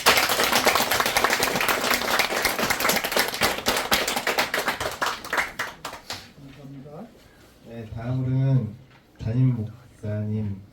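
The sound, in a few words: audience applause welcoming a new pastor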